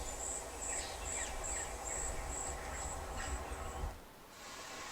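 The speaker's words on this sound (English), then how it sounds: "So you got lively forest," A lively forest nature soundscape played through a 2022 Hyundai Kona N-Line Ultimate's sound system: steady high chirping of insects or birds over a broad hiss, fairly quiet and continuous, cutting out near the end.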